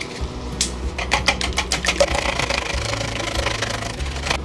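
A whisk beats eggs in a bowl with quick rhythmic clinks and taps, a rapid close series of strikes that settles into a softer continuous swirl.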